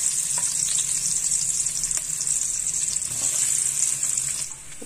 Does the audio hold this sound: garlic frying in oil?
yes